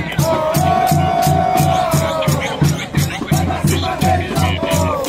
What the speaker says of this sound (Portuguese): A torcida já começa a animar o jogo.